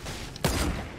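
A single sharp sniper-rifle shot in Fortnite, one loud close crack with a short rumbling tail over faint background noise, no voices.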